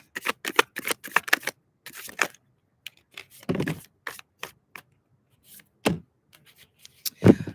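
Tarot cards being shuffled in quick riffling bursts, separated by short pauses, close and fairly crisp with no talking.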